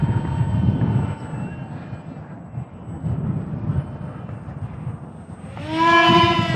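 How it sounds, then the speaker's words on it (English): An ESKY Sparrow RC biplane flying at full throttle downwind, a steady buzzing motor drone in the open air that grows louder and higher-pitched near the end as it passes close. "Let's go full throttle downwind."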